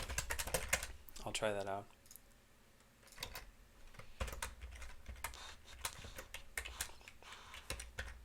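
Rapid clatter of computer keyboard keys in irregular bursts, close and crisp, with someone speaking briefly in between.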